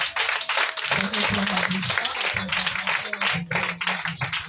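A church congregation applauding, a dense wash of many hands clapping steadily and close, with voices mixed in beneath the clapping.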